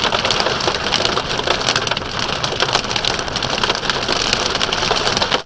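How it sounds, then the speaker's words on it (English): Dense hail or heavy rain pelts the roof and body of a Subaru Outback in a steady, loud, unbroken patter heard from inside, with no talk. "It feels really good knowing that when I get caught in a random hailstorm,"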